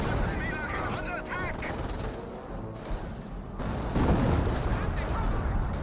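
Artillery barrage in the WWII strategy game Company of Heroes, with booming shell impacts and crackling gunfire layered over a talking voice, growing heavier toward the end.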